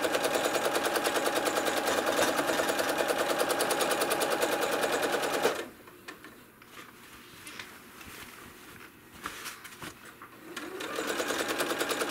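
A domestic sewing machine machine-quilting a quilt runs in a loud, steady rapid stitching rhythm, stops abruptly midway, then restarts near the end.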